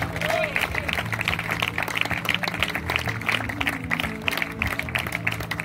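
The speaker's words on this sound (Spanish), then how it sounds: "aplauso al Señor." A church congregation claps and cheers at an evangelical service, a dense, sustained burst of applause mixed with crowd noise and a voice speaking over it.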